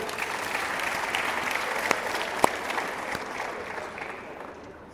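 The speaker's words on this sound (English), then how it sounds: "Let's give them a round of applause as well." Audience at a 60th anniversary celebration applauding industry association members and leaders, a steady broad wash of clapping from a large crowd that tapers off slightly toward the end.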